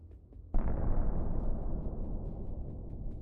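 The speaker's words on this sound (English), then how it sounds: "The resulting explosion was dramatic." A rocket launcher struck by an FPV drone erupts in a sudden loud blast that gives way to a long, rumbling, crackling roar, with faint pops scattered through the decay.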